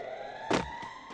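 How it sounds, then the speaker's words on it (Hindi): A faint video game siren wails over a low background hum, with one louder swell followed by two softer ones. "साइरन बज चुका है"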